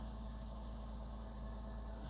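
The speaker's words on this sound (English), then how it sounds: "This is a cold start, and it's at about 1100 RPM, 1050 RPM" A 2002 Porsche Boxster with a manual gearbox idles after a cold start at about 1100 RPM, a steady low hum with no change in level and no voices.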